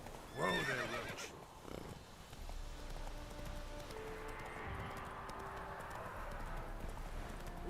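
A horse in The Witcher 3 video game whinnies sharply near the start, then its hooves clip-clop in a steady rhythm over a low ambient bed, close and clear, with no talk.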